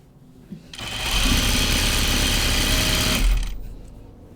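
A sewing machine runs in one steady burst of about two and a half seconds, stitching through a garment. It starts abruptly, holds a loud even whir, then stops and leaves a quiet room.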